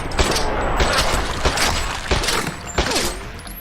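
Rapid gunfire in Max Payne 2, a run of loud sharp shots in quick bursts with mechanical clacks and rattles between them, close and dense.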